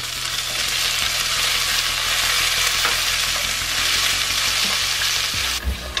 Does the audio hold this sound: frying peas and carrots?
yes